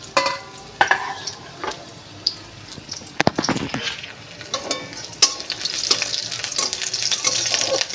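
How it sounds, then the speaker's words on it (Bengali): Onion and a dried chili frying in a wok, a steady close sizzle with scattered clinks and stirring scrapes, plus a sharp clatter near the middle; no one talks. "কড়াইতে পেঁয়াজ আর একটা শুকনো লঙ্কা দিয়েছি, অর্ধেক মতন একটুখানি মতো পেঁয়াজ দিয়েছি, দিয়ে ভাজা করে নেবো।"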